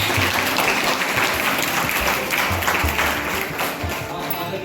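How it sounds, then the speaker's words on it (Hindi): Sustained applause from an audience at a drama and theatre department event, dense steady clapping filling the whole stretch at close range with faint voices mixed in. "जोरदार तालियों से"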